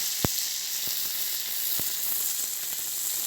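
Fish fries in a pan with ginger, garlic, chili and onion for a local Assamese dish. A close, steady sizzle continues throughout, broken by a few sharp pops and crackles.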